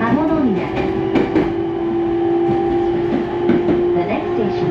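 Japanese commuter passenger train running on rails near Kamonomiya, a steady rumble with a sustained tonal whine, wheel clicks and squeals over the rail joints, heard close from onboard.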